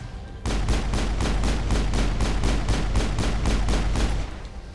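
Turret gunfire pounds the Mako vehicle in the Mass Effect video game on Noveria, a loud, steady burst of rapid, evenly spaced shots lasting several seconds, alone without talk.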